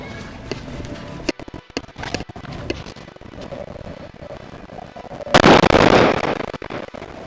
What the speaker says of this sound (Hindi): तो सबसे पहले बुलेट और इनको जलाएंगे।